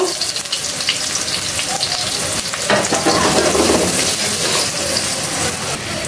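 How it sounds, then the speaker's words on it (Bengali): Onions sizzle steadily in leftover oil from frying meat, a dense continuous crackle with occasional stirring scrapes, close and fairly loud throughout with no talking. "মাংস ভাজার তেলটা আছে, তেলে পেঁয়াজ ভেজে নিব"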